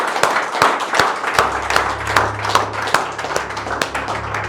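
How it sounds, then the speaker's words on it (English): A small audience claps for SMH Rail at a locomotive launch event, sparse and uneven hand claps with individual claps distinct, moderately close, under a low steady hum. "A big round of applause for SMH Rail"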